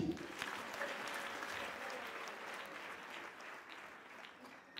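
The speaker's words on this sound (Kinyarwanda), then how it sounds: "muyiha amashyi" Continuous applause from a church congregation at a choir thanksgiving gathering, many hands clapping in a steady unbroken roar that eases slightly toward the end.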